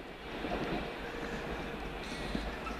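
A fast First Capital Connect train running from Bedford to Brighton passes with a steady, loud rumble and faint rail clatter that stays even throughout, with no talk.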